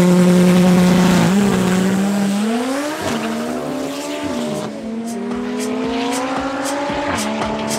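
A drag car launches hard at Midvaal Raceway with heavy wheel spin, its engine roaring loud and near while tire squeal rises and the revs climb in steps through the gears.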